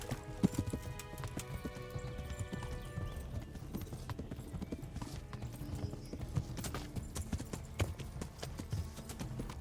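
Rapid rhythmic hoofbeats of a galloping horse in a video game clatter steadily throughout, with occasional sharper knocks layered over the constant drumming.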